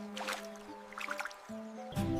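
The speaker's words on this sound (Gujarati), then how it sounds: "પછી બોબો પાણી લેવા જાય છે, પણ ખેડૂત પુત્ર પર અડધું પાણી ઢોળાઈ જાય છે." Cartoon water splashes and spills onto a farmer's son, a short run of light drips and squishy liquid sounds over a steady tonal hum, with a brighter splash at the end.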